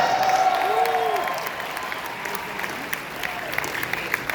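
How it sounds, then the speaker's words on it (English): Audience applause fills a Comic-Con 2019 panel hall for the Batman: Hush film, a dense, steady wash of clapping from a large crowd with a few whistles and cheers, fading slightly toward the end. "I want to hear applause from the far back"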